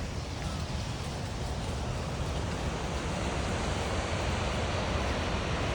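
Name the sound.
rushing waterfall near Juneau, Alaska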